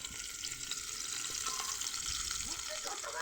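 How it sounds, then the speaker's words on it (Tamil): Food sizzles and crackles in hot oil, a steady close-up frying hiss with small pops throughout. "எண்ணெய் சூடாயிருச்சு நம்ம தமிழ்நாட்டு முறைப்படி தான் பொறிக்க போகிறேன்"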